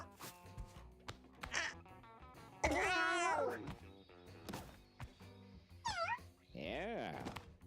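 Several cartoonish cat meows from the video game Mewgenics ring out in quick succession, varied in pitch and length, some drawn out into wavering cries, with short clicks and thumps between.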